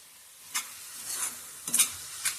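A pan of jackfruit vegetable cooked with golmo dried shrimp gets stirred, giving a faint sizzle broken by a few sharp scrapes and clinks of the spoon against the pan.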